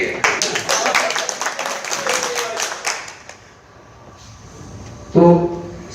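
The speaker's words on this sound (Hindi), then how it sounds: "ताली है इनके लिए।" Audience clapping in a training seminar hall, a dense burst of applause for the first three seconds that then fades into quiet room noise, with a short voice near the end.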